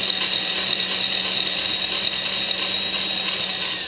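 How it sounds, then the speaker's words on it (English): A power drill bores a hole in a 37mm reloading round. The steady, loud mechanical whine runs without a break and without speech. "I'm going to drill the other hole"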